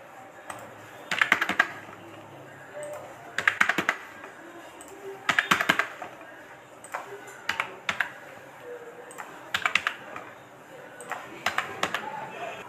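Subject marks are typed on a computer keyboard in quiet, irregular bursts of rapid keystrokes separated by short pauses, close and fairly soft.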